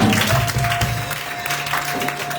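A church congregation applauding during a service, a dense steady wash of clapping from many hands that carries on evenly throughout, with a faint voice mixed in.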